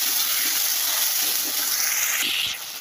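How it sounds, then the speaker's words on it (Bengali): Soaked aromatic rice hits a hot pot and is stirred while cooking muri ghonto, a steady loud sizzling hiss with a faint scrape near the end. "ভিজিয়ে রাখা আতর চালগুলো আমি দিয়ে দেবো। নাড়াচাড়া করে দেবো"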